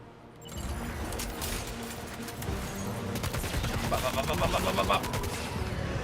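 Sam's gun firing in the video game Death Stranding 2, a rapid string of shots over dense game noise, steady and close, building slightly toward the end.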